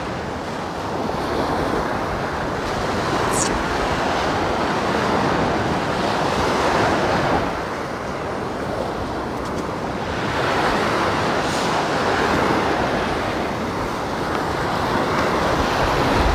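Steady roar of surf rolling onto a beach with gusting wind buffeting the microphone, loud and continuous with slow swells of intensity and no talking.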